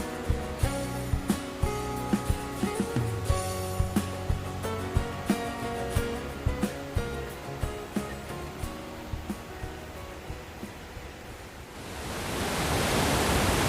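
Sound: Sri Dit waterfall

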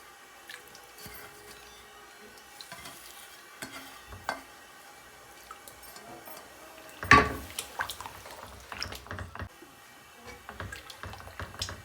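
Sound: pouring boiled milk into the pan

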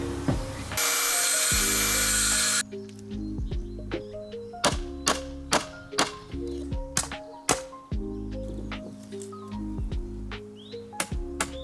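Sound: cutting wooden bars for greenhouse door

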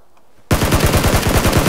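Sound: gunfire in a video game

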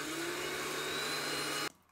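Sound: blender pulsing spinach, garlic and olive oil for pesto

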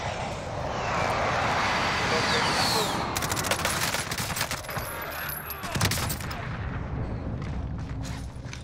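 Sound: airstrike explosions in the video game Call of Duty Warzone

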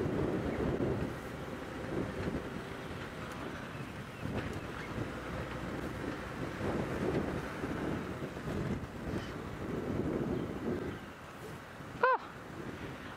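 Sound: strong wind

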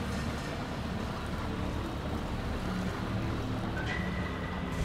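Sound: motorboat in video game Far Cry

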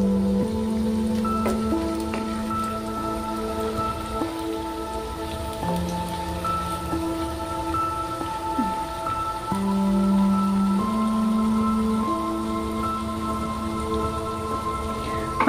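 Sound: carrot fritters (bora) deep-frying in oil

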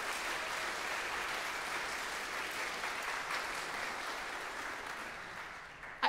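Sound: congregation applause

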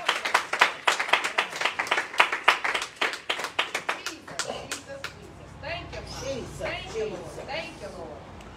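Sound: congregation clapping hands

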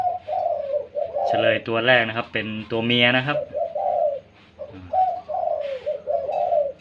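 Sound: doves cooing at each other

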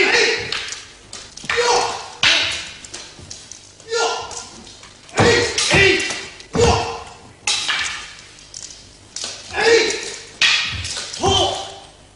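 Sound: swords striking each other during Japanese sword fighting practice

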